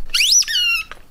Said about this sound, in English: Listen to those vicious squeaks.